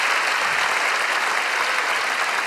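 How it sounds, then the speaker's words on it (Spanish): A studio audience applauds loudly and steadily, a dense wash of clapping that holds at full level for the whole stretch on a Peruvian comedy show. "Un fuerte aplauso para Kilo Batito."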